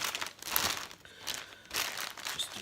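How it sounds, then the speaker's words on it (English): Raw meat is pushed into a plastic bag for brining, making loud close crinkling and crumpling of plastic in two bursts with a short pause between them. "Get this one in the plastic bag."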